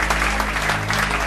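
A crowd claps loudly and steadily for a newly chosen cheerleader at a school, a dense unbroken burst of applause.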